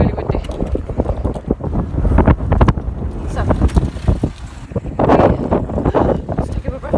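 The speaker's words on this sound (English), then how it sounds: "Oh, it's still really, really windy." Strong wind buffets the microphone outdoors in gusty, low rumbling bursts that swell and fade, with a person speaking briefly over the roar.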